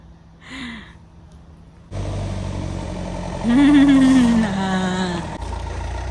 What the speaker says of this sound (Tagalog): Naririnig ko na yung sasakyan.